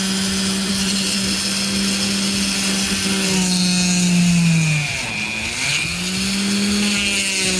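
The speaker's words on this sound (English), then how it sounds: "the next step is to drill out this first nub as well as the other side" Power drill boring out a plastic nub on an Everest 10 RC car, a loud continuous motor whine whose pitch sags and recovers as the bit bites, with no talking.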